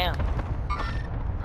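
A sharp sniper shot rings out in the Call of Duty Modern Warfare video game, a brief booming report amid ongoing gunfire, with voices talking over it.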